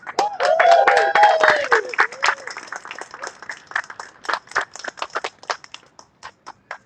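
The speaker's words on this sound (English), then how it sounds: "I just want to start off by giving yourselves a round of applause" Applause from a gathered crowd at a protest rally, loud at first with whoops and voices, then thinning to scattered individual claps that fade out.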